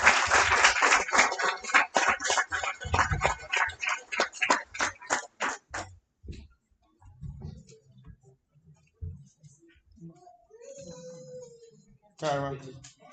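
Clapping from a crowd at a barber bootcamp graduation ceremony, a quick steady patter for about six seconds that then stops as a voice starts talking.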